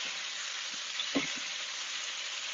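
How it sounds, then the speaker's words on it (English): Chicken sizzles steadily in a pan with sauce poured over it, a constant soft hiss with one small pop midway, faint and even throughout. "It's kind of just sizzling away"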